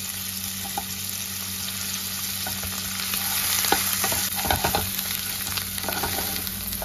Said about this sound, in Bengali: চিংড়ি মাছের সঙ্গে ভালো করে মিক্স করে একটু তেলের মধ্যে নেড়ে নেব